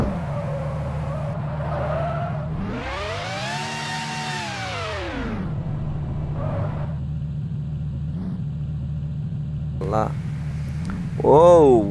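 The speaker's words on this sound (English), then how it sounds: "What a drift!" A Ferrari drifting in a car driving simulator game lets out a long rising-and-falling tire squeal over a steady engine drone, followed by brief shorter skids near the end.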